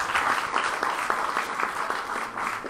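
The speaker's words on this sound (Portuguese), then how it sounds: "Dê um aplauso, Senhor, para ele, por favor." Steady applause from a congregation at a church service, a continuous wash of many hands clapping at a moderate, slightly distant level.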